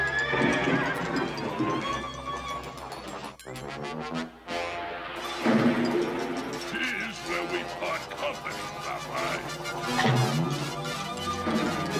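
A cartoon horse pulls a carriage, giving repeated whinnies and neighs over clip-clopping hooves, with a brief crash midway and voices talking in places.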